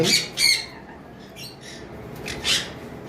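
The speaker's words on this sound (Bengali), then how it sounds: "এখানে পাইনাপেল কোনোরের কিছু পেয়ার রয়েছে দেখতে পাচ্ছেন" Pineapple conure parrots at a bird sale give sharp, harsh squawks close by, several bursts spaced irregularly, the loudest at the start and near the end, with quieter calls between.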